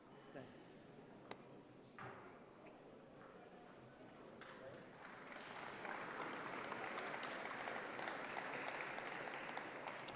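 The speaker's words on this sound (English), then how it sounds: "let's give Marvin one more round of applause because he just deserves it" Audience applause at the Ellis Island Medals of Honor ceremony, starting as a few scattered claps and swelling after a few seconds into a full, steady round from the crowd that continues to the end.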